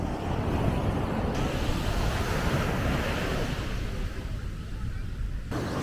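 Strong ocean surf pounds a Zambales beach in a continuous loud roar, with heavy wind buffeting the microphone throughout.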